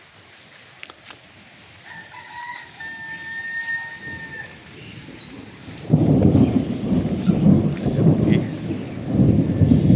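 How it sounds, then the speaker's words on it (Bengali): Thunder rolls across a cloudy sky during rain, starting soft and growing into loud sustained rumbling in the second half, with birdsong and a rooster crowing faintly in the background. "এই দেখেন আকাশটা খুব মেঘলা এদিকে বৃষ্টি এই যে আকাশে অনেক গর্জন করতেছে"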